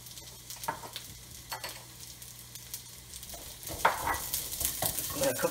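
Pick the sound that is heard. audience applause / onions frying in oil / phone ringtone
onions frying in oil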